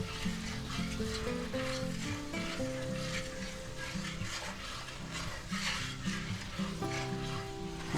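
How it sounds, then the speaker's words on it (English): Seasoned boneless beef ribeye steaks stirred in a pan with garlic powder and rosemary: continuous quiet sizzling with scattered utensil scrapes and clinks, while steady tonal music plays underneath. "Stir that around."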